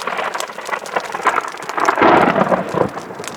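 Thunder rumbles through a mountain lightning storm at a solo campsite near Elfin Lakes in BC. The steady, rain-like roar swells into a heavier rumble about two seconds in and fades slowly, with no voices.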